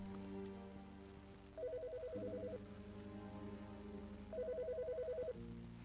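An electronic phone ringtone in the video game Autopsy Simulator plays a repeating melodic pattern in two bursts, loud and close over a steady low background hum.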